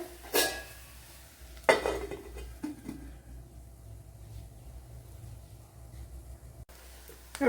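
Metal lid set down onto a pan of cabbage cooking on the stove, sharp clanks near the start and around two seconds, then quieter clinks and a low hum of the burner.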